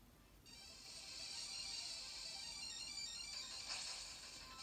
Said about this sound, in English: the notification that you just heard